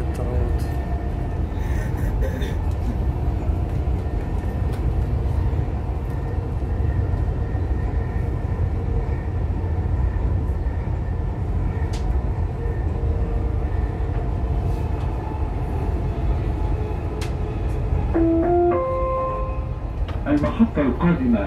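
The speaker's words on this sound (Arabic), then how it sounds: "És mi vezetjük most a metrót." A Dubai Metro train running between stations, a steady loud rumble and whine of the carriage throughout, with announcements and a voice talking over it and brief chime-like tones near the end.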